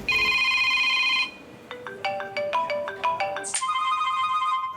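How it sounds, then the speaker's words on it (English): An office telephone rings alone, with a steady electronic tone at first, then a run of shorter warbling chirps, then a sustained ring again, clear and close. "That's the office phone."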